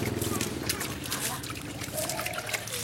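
Probiotic liquid poured and splashed over chopped banana-stem fermented goat feed, a soft continuous trickle and slosh running under a man's speech.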